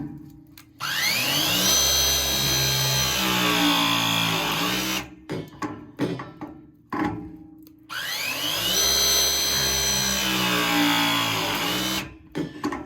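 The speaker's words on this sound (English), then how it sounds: "I really do love the Milwaukee Pro Press machine" A Milwaukee Pro Press tool crimps a 1 inch Viega press fitting on a boiler return line, giving two long, loud motor whines of about four seconds each with harmonic tones, separated by brief clicks and handling noise.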